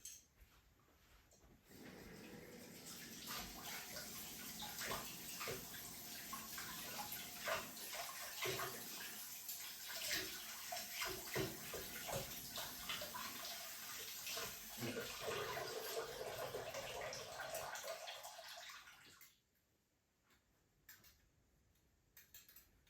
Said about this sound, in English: now we're going to have to wash the beaters